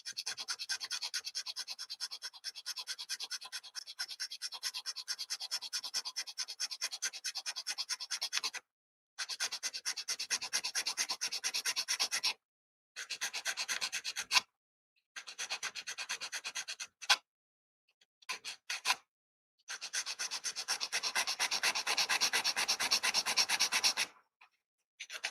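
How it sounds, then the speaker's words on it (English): A hand file works into the corner of a plastic model in close, raspy back-and-forth strokes. The strokes come in long runs broken by several short pauses. "So I'm just kind of cutting into the corner. And I'll just lean my file over into the curvy part."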